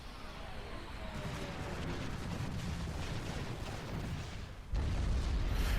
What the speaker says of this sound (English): you'll be able to see the effect damage over time bombs have on a shield